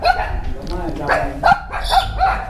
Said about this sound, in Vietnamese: Chó sủa á.